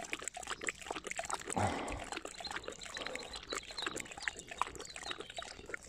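Ares the dog laps water from a bag during a morning walk in a clean forest, soft wet lapping and trickling at close range, with faint outdoor background.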